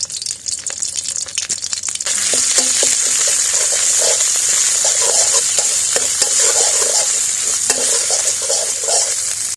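Red curry paste hits hot oil in a pan and fries with a loud, steady sizzle. Scraping stir strokes repeat over it, and no one speaks.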